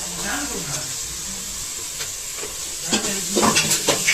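Ginger garlic paste sizzling on softened onions in a pan for a chicken biryani, a soft steady frying hiss with a few spoon scrapes that grow busier toward the end, while a voice speaks over it.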